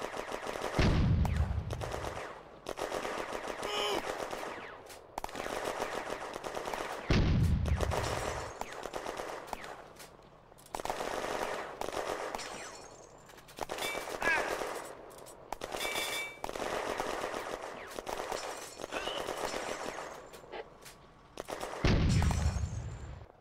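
Bursts of machine gun fire in a WWII video game battle at Villers Bocage, June 1940, with repeated rapid volleys and heavy booming impacts, loud and close, separated by short gaps.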